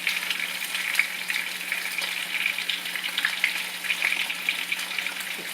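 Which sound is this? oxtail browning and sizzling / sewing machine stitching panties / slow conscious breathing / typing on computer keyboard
oxtail browning and sizzling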